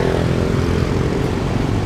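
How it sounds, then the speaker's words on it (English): Boat engines on a river in Ho Chi Minh City drone with a low, rough rumble nearby, a steady motor sound of boats passing on the water. "I hear some more boats. Lots of boats down by the river."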